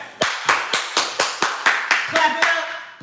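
A single pair of hands claps in a steady rhythm of about ten sharp, loud claps, close to the microphone and with no one talking over them.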